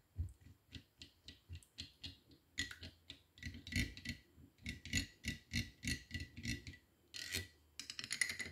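Face mask ingredients being stirred together in a bowl make rhythmic rasping, scraping strokes, close and steady, repeating at a regular pace with no talking.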